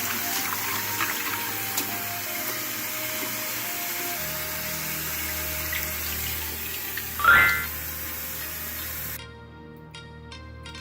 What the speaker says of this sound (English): I'm going to wash the cilantro and then chop it.